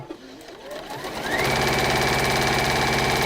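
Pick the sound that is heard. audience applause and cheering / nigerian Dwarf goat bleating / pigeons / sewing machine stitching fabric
sewing machine stitching fabric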